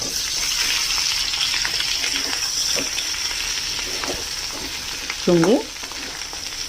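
Potatoes frying in a pan with green chillies give a steady close sizzle with stirring scrapes, and a brief voice cuts in near the end.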